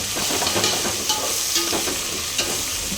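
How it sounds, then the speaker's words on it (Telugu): Green chillies and spices frying in a pan for pulao, a loud continuous sizzle with stirring scrapes and small pops throughout, close and without talk. "ఇవి ఇంకా పచ్చిమిర్చి అన్నీ బాగా ఫ్రై అయిపోతే ఎసరంచ వేసేయాలి"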